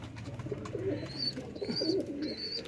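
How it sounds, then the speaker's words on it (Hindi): Young teddy pigeon chicks in a loft give soft, close cheeping and cooing calls in short repeated bursts, with no talking. "बिल्कुल अभी चूं चूं करते बच्चे हैं"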